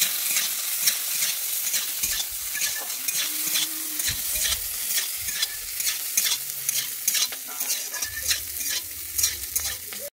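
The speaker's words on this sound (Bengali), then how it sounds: "আমি প্রথমে গাজরটা দিয়ে দিচ্ছি, এরপরে আমি দিয়ে দিচ্ছি বিনসটা দিয়ে দিচ্ছি, দিয়ে আমি একটু ভেজে নিচ্ছি।" Carrots and beans frying in a pan for a Bengali vegetable moong dal, a steady, close sizzle broken by repeated scraping strokes of a spoon stirring the vegetables.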